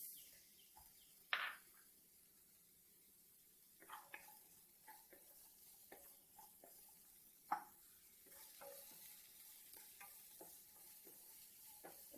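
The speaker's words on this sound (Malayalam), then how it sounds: "അതിലേക്ക് പച്ചക്കറി ഈ ക്യാരറ്റ് ഇട്ടിട്ട് ഒന്ന് വഴറ്റിയെടുത്താൽ മാത്രം മതി." Carrots and other vegetables sautéing in a little oil, a quiet low sizzle broken by sharp intermittent clinks and scrapes of a spoon stirring the pan.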